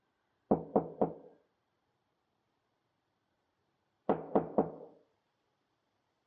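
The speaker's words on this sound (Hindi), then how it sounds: "दरवाजा खटखटाओ" Knocking on a door: a crisp group of three raps, a pause of a few seconds, then a second set of three sharp knocks, close and clear against silence.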